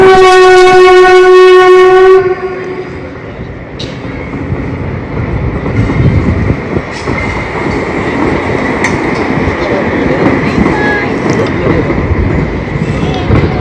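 A train rumbles past close by, a loud steady roar of wheels and carriages; at the start a harmonic horn-like tone sounds for about two seconds.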